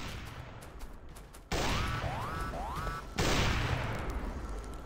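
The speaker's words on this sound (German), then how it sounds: "Ja, 3 Schuss vom Sniper-Ding." Sniper rifle shots in the modded video game Factorio: two abrupt, loud bursts that each leave a sustained noisy wash, with rising electronic chirps between them.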